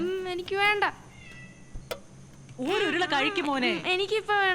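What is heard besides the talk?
cat meowing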